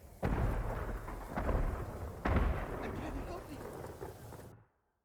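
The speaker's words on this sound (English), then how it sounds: "All fireworks! On all sides!" Fireworks exploding in a battle scene from Ghost of Tsushima, with three heavy booming blasts rolling into a continuous rumble before cutting off to silence.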